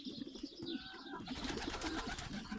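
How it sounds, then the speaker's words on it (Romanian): Pigeons cooing in a loft, a steady run of low soft coos repeating close by, with faint chirps and rustling layered over the background. "să vă arăt ce au mai rămas din porumbei care le-am dat drumul"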